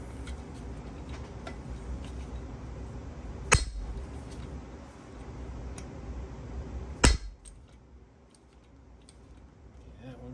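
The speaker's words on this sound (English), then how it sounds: "Grab the hammer, a couple whacks" Two sharp metallic hammer strikes ring out against a 1973 Yamaha CT3 motorcycle engine during teardown, spaced a few seconds apart, over a quiet workshop background with faint clinks.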